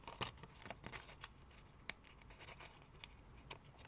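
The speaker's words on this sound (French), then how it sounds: "on va décoller le scotch double face" Quiet crackling and scratchy tearing noises close by, with a few sharper ticks, as double-sided tape is slowly peeled off its backing.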